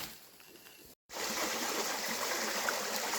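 A forest stream flows beside a waterfall near a cliff edge, a steady full rushing hiss after a brief cut, close and continuous with no talk.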